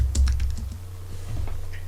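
Rapid clicking of keys on a computer keyboard while text is being entered, a close, irregular run of sharp taps with no voices.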